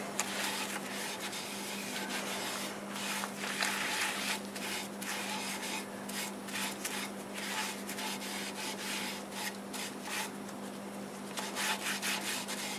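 Polycrylic finish rubbed onto a spinning wood turning with a cloth, giving a steady close scuffing rasp in repeated strokes over a constant lathe hum.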